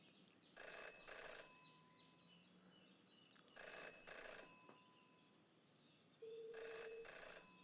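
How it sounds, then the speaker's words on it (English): A telephone rings in the Jenny LeClue video game with three separate bursts of trilling bell, each about a second long and spaced by short pauses over a quiet, faint background. "Jenny had learned to never ignore a ringing phone."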